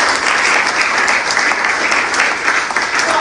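Applause from an audience at a party presidential primary event in Abuja, a dense, steady wash of clapping sustained without a break from start to finish.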